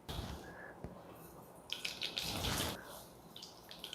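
Tap water runs over boiled chickpeas being rinsed in a strainer, a soft continuous splashing that swells in the middle, close and quiet, with no talking.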